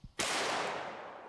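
A single loud shot from a Smith & Wesson Model 610 10mm revolver with a 6.5-inch barrel firing 180-grain Underwood jacketed hollow points, a sharp crack after a faint tap, then a long fading echo.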